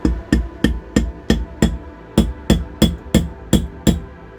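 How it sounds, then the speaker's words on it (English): A dozen sharp, evenly spaced plastic hammer taps on a Reliant Regal Supervan 3 engine part during a rebuild, steady rhythm, close and fairly loud with no talking. "Just give it a little, get me plastic hammer"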